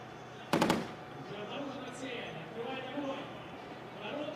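A 12.7mm tank machine gun fires a short rapid burst at a range during a tank biathlon, heard at a distance as a quick cluster of sharp cracks, followed by ongoing commentary talk.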